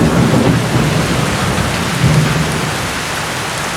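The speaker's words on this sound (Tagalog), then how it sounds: "lakas na lakas ng ulan" Heavy typhoon rain in the UAE pours down in a dense, constant roar, with a low rumble swelling faintly in the background.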